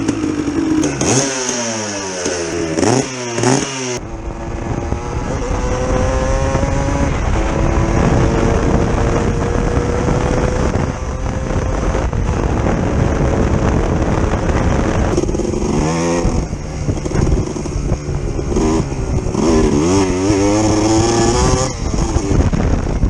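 An enduro motorcycle engine with ignition misfires revving hard and repeatedly, roaring up and down in pitch, loud and close, with continuous rough engine noise throughout.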